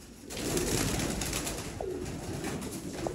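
Sialkoti pigeons cooing close by over a steady background hiss, with a couple of short soft coos standing out.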